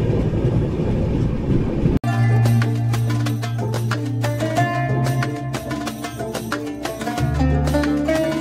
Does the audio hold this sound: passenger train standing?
yes